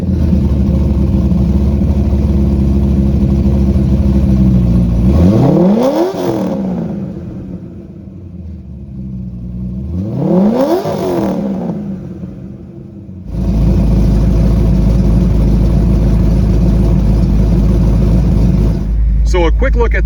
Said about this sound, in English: I want to let you listen to this exhaust because, man, does it sound good with that supercharger